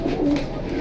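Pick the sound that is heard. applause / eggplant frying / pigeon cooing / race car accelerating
pigeon cooing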